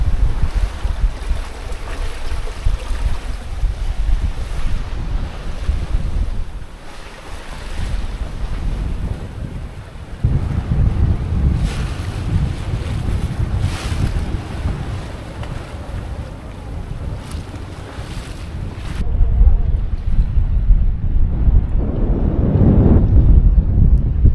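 Sea waves slosh and crash against a small boat on a trip off Lemnos, Greece, with heavy wind buffeting the microphone, a loud continuous rushing roar that briefly eases near the end.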